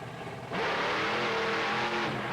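A monster truck engine revs hard during a race run at a monster truck event in Fresno, California: a sudden loud, roaring rev kicks in and holds at a high, gritty pitch, heard close as if from inside the truck.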